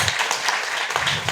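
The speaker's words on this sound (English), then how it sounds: "let's give them an applause." Brief burst of audience applause at a meeting, a short patter of scattered hand claps lasting about a second.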